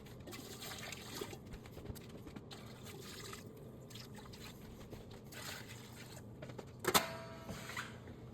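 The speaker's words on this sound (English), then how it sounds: "So I started putting my water in, getting it heated up for the flan." Quiet trickling and dripping of water being poured into a pan in a small space, with a brief louder splash near the end.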